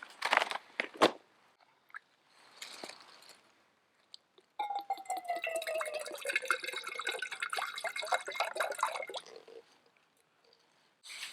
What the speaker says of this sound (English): That's more than enough water.